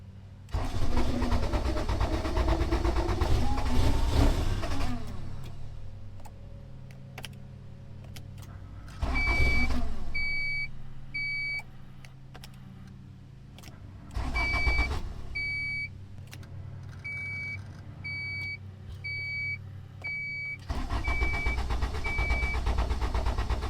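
A Honda CRX engine turns over and starts after a push start, with rumbling bursts, intermittent high electronic beeps and clicking between engine surges, heard close with no talk.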